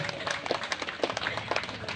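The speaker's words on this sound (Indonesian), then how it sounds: "Tepuk tangan yang meriah." Steady applause from a crowd, many hands clapping densely at once, fairly close and even in loudness throughout.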